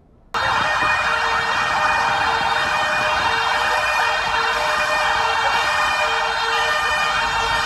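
SAMU ambulance siren sounding during an emergency drill in Petrópolis that simulates a two-car collision on Rua do Imperador. It starts abruptly and wails loud and steady, with nearby traffic rumbling underneath and no voices.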